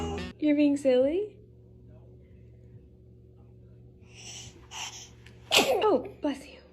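Someone sneezes indoors, with a sharp burst near the end of a short stretch of a baby's babbling and vocal sounds over a low steady hum.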